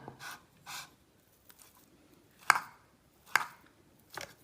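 Boiled potatoes mashed by hand for potato tikki: a handful of soft, damp thuds and squashing presses, irregularly spaced and fairly quiet, close by with no talk.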